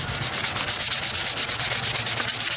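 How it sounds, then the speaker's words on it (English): Sandpaper scrubs across a steel knife blade after heat treating, a close, even rasping in rapid back-and-forth strokes with no talk. "I just hit it with a little sandpaper"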